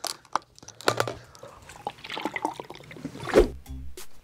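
Someone in a home music studio handles a large bottle of water, with crinkling plastic and sloshing liquid in short, close bursts and a louder gulp-like moment near the end.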